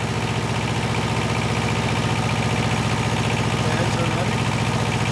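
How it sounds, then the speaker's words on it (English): An auxiliary power unit runs with its clutch engaged and cooling fans spinning, producing a loud, dense, steady roar with a fine low pulsing throughout and no pauses. "Clutch has cycled on."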